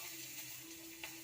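Garlic with green and dried chilies frying in oil after prawns, a faint, steady close sizzle with a low hum underneath and a single small crackle near the end.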